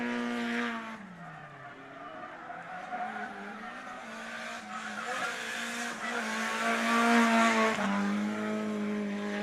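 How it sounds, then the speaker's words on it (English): Nissan S13 drift car with a four-cylinder turbo engine on track at Sebring, revs rising and falling through gear changes with tyre squeal, heard from a distance and growing louder toward the end. "we have an S13 on track. Sounds like it has an SR. I could be wrong, but it's some sort of 4-cylinder turbo"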